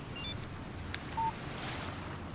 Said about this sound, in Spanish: Un mensaje de texto de Barry.